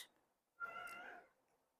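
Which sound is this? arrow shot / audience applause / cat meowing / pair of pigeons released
cat meowing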